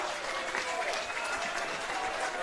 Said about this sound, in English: And the crowd, they are right into this one.